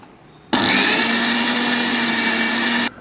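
An electric mixer grinder whirs loudly as it grinds spice masala with water added. The motor starts abruptly, holds a steady high-pitched drone for over two seconds, then cuts off sharply.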